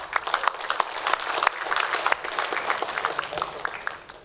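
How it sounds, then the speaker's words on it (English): Applause from a conference audience at an open-source technology summit, a thin, scattered patter of claps lasting a few seconds with no voices over it. "Please applause to PASTI."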